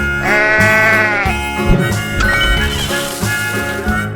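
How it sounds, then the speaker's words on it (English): Sheep bleat in a 3D animal video game, drawn-out wavering cries over bouncy game music, loud and close. "Sheep."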